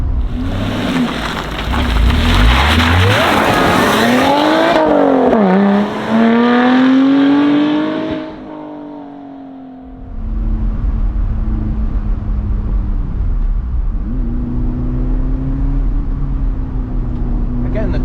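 A Lotus four-cylinder sports car engine revs and drones as it drives, pitch climbing and dipping with gear changes, with rushing wind and road noise throughout.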